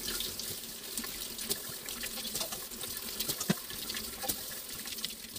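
Tap water runs steadily over shiitake mushrooms being washed in a kitchen sink, a soft continuous splashing stream with small irregular drips and clinks, fairly quiet and close, with no talking.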